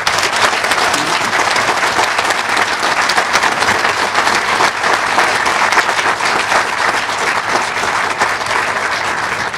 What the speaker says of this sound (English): I would like this crowd to give them a hearty round of applause.